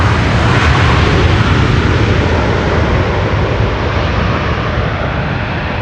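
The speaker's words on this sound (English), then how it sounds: "And that was a 777, actually using the reversers." A KLM Boeing 777 lands at Schiphol's Polderbaan runway with its thrust reversers deployed. A loud, sustained, broad jet roar holds steady for several seconds, with no talking.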